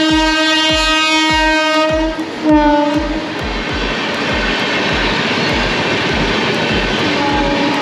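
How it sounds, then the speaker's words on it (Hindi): The Seemanchal Express passing through Buxar railway station in Bihar, loud and close, its long horn blaring over a rhythmic clatter of wheels on rail joints and a heavy roar that continues after the horn stops. "सीमांचल एक्सप्रेस जा रहा है"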